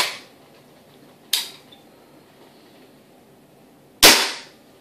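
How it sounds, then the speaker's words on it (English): Hatsan 95 air rifle firing Crosman Premier hollow point pellets: two sharp, loud cracks a few seconds apart, each with a short ringing tail, plus the fading end of an earlier shot at the very start, with quiet between. "I'm firing Crossman Premier hollow points."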